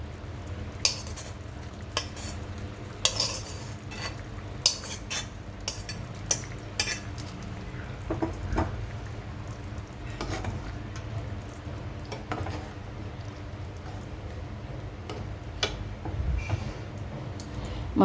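A spoon scrapes and taps against a pan as fried mushrooms are stirred into masala gravy, quiet intermittent clinks over a soft sizzle, with some faint talk.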